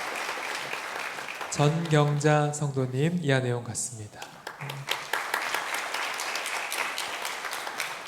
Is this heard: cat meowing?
no